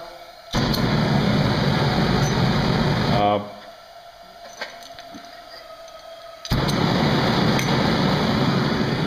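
A homemade gas forge burner made from thin steel pipe roars to life as a steady, close, loud hiss. It comes in two sustained bursts with a quieter gap between them that holds a few small clicks.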